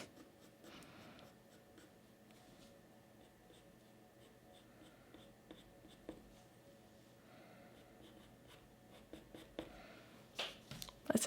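A graphite pencil softly rubs and blends on paper, shading a dog's eye. The faint, close scratching runs in short irregular strokes and grows a little busier near the end.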